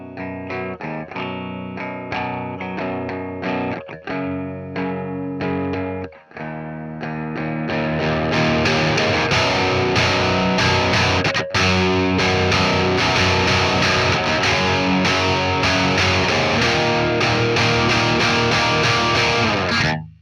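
Electric guitar through the STL AmpHub amp simulator with Marshall-style distortion, first picked softly as separate notes, then strummed hard into thick, saturated, sustained chords, loud and close with no talk.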